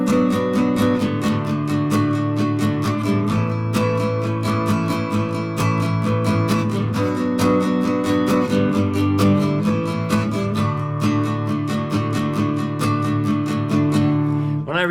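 Chords of a song are strummed on a nylon-string guitar with a light pick, in a steady, even rhythm of full strokes. The playing is continuous and prominent, with no talking.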